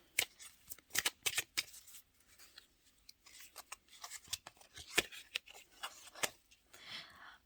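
Tarot deck being shuffled and cards drawn by hand, close, quiet riffling flutters and papery slides in irregular bursts with brief pauses between.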